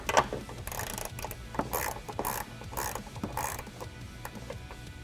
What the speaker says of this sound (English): Next, we're going to take a ratchet with a 13mm socket,